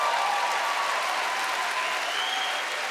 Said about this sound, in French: Applaudissez pas, j'ai pas le temps, vraiment.